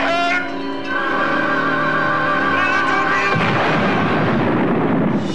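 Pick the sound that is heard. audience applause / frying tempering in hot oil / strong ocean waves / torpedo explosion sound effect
torpedo explosion sound effect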